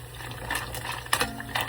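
Freshly harvested red radish being dipped and swished in water, soft sloshing and splashing with a few small knocks, close and moderate in level.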